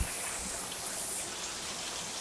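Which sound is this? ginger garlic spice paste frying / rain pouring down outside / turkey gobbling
rain pouring down outside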